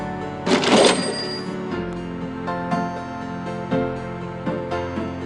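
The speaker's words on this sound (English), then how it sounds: "Gabriel opens the cash register to examine the take" In the Gabriel Knight adventure game, set in St. George's Books, an old cash register clanks open, with a loud mechanical ring and rattle followed by a string of bright chimes and clicks.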